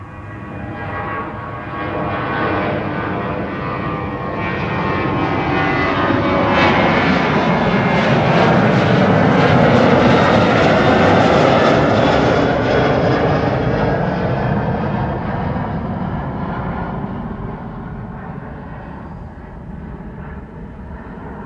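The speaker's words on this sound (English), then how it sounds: "Transavia flight 6411 to Naples is taking off here" A Transavia airliner takes off from Schiphol runway 24, bound for Naples, its engine roar swelling steadily to a loud peak midway and then slowly fading as it climbs away; no voices.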